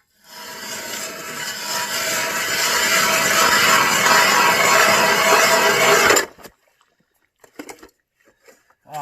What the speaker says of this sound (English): Let's take a drill sample to see how thick the ice is here.